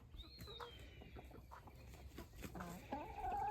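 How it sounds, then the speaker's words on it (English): Chickens cluck and squawk on a farm, with a rising hen call near the start and scattered clucks throughout, fairly faint over outdoor background noise. "Boy, some serious chicken drama going on here."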